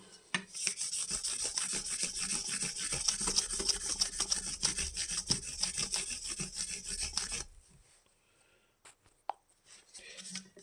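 A Telecaster-style guitar body being sanded by hand with 1500 grit sandpaper, a close, steady rhythmic rubbing that runs for about seven seconds and then stops.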